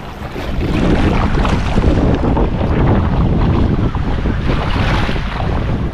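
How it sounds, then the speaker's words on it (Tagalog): Ocean waves roar loudly and continuously near the shore, a dense steady wash of surf with wind rumbling into the microphone and no talking. "Dinig yan, dinig na ang alon, dinig."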